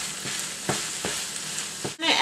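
Minced onions sizzle in a pan of browned ground meat for low-carb enchiladas, with a constant fry hiss and several soft scraping stirs, close by and with no voices.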